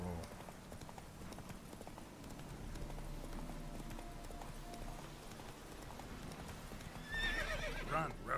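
Roach, a horse in The Witcher 3 video game, gallops with steady clip-clop hoofbeats throughout, loud and close, ending with a whinny and snort near the end.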